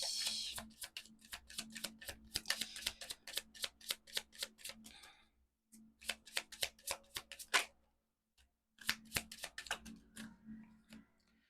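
Tarot cards are shuffled and drawn in a quiet room, giving close, crisp bursts of rapid riffling and flicking that come in three runs with short pauses between them, with no talk.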